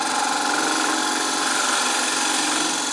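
A gouge on a wood lathe cuts while turning a reverse-chucked bowl, giving a loud, continuous scraping whir with a steady motor drone and no pauses or talking.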